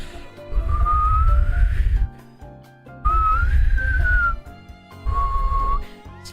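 Three sustained whistled tones, each rising slightly in pitch, separated by short pauses, with a low rumbling background underneath.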